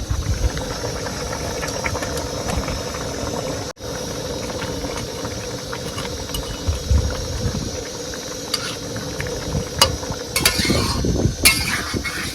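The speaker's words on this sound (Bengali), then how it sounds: "ঝোল ফুটে গেছে এবারে মাছ দিয়ে দেবো" A pot of fish curry gravy bubbles at a steady boil, with busy broadband simmering noise and occasional clinks and rattles of utensils on cookware, moderately loud and close.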